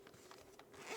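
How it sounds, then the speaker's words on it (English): A zipper on a fabric microphone carrying case is pulled open in several quick, close, scratchy strokes, fairly quiet with nothing else around it. "A nice zipper, little grab handle here."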